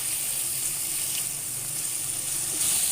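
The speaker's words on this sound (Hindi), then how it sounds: "मैं चिकन को जब तक फ्राई करूँगी जब तक चिकन का कलर चेंज ना हो जाए" Chicken with black pepper, salt and lemon juice fries in a pan with a continuous, bright sizzling hiss, steady and fairly loud from start to finish.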